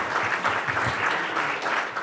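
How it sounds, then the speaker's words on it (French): Steady, fairly loud audience applause for Maïté at a public meeting on ITER, a continuous dense patter of many hands clapping with no break. "je crois qu'on peut l'applaudir"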